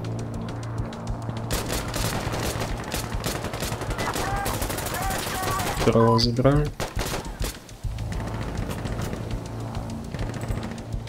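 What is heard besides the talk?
gunfire in video game Insurgency Sandstorm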